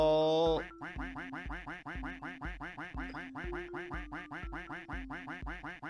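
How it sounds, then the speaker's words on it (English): Duck quacking in the Duck Simulator video game: a brief electronic tone, then a rapid, steady stream of many loud, clear quacks in an even rhythm, close and with no talk. "Automatically quacks once every 10 seconds while in game."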